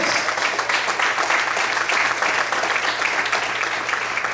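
A church congregation claps continuously and steadily during a sermon, a dense wash of applause throughout, with faint voices mixed in.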